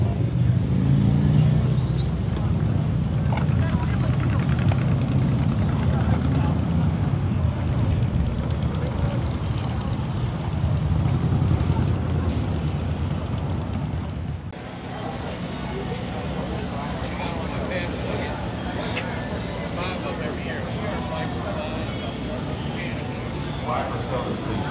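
Strong gusty wind buffets the microphone in a dense, roaring rush that runs throughout, easing slightly partway through, with a voice talking faintly underneath.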